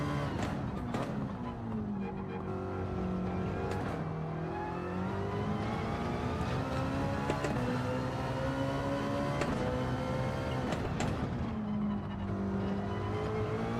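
Race car engine in a racing video game time trial, revving steadily with rising and falling pitch through gear changes and corners, loud and continuous with no talk.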